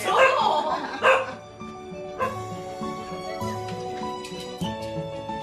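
A dog barks at a visitor arriving at the front door, a couple of loud close yips and barks at the start, then quieter whimpering under background music.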